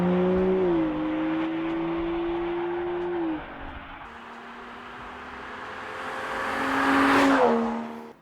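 An Aston Martin V12 engine holds a steady, loud drone, eases off midway, then swells into a rising rev near the end before settling again, with no talk over it.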